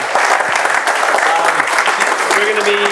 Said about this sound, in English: So let's give a round of applause for these guys.